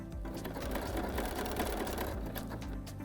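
A home sewing machine runs a steady lock stitch along the flattened edge of a fabric penguin play mat held with clips, its continuous close, even whir lasting throughout without pause.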